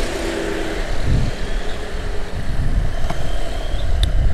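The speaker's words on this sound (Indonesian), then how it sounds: "Kondisi lalu lintas lumayan ramai." Busy traffic on the main access road into the Citra Garden Serpong housing estate, with a steady wash of passing cars and motorcycles rumbling close by and engines swelling and fading.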